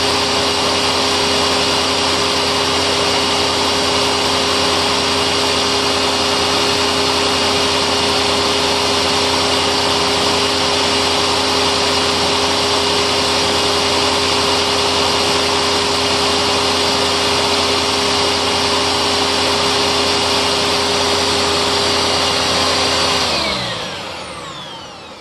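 An aluminum vacuum cleaner brush roll spins at high speed with a loud, steady whine and hum, then winds down and fades out near the end.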